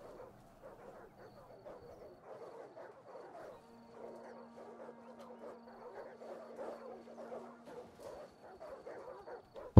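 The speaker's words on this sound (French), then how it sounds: "On entend les chiens, on les entend" Dogs bark in the video game Rome 2 Total War: faint, distant, repeated barking scattered across a quiet battle scene, continuing steadily with no clear talk.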